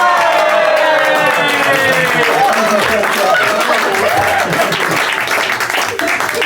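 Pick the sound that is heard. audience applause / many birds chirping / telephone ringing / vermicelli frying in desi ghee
audience applause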